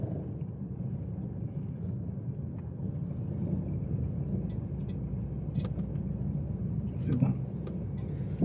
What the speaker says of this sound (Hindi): चलिए क्लच छोड़ के रेस करिए,